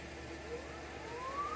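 Electric motor of a Porsche 924S EV conversion spinning in gear, a steady whine rising slowly in pitch over a low hum, continuous and fairly quiet.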